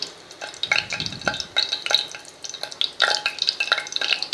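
Cumin seeds crackle and pop in hot oil on a medium gas flame, with rapid irregular close sizzling bursts and stirring clinks, no voices.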